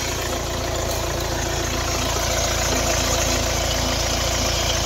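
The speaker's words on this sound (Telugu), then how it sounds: "స్టార్ట్ చేసి చూపి. డీజిల్ వేరియంట్ అండి ఇది." A 2013 Hyundai i20 Sportz diesel idles steadily in Karimnagar, a continuous close engine rumble with faint knocking and vibration, no talking.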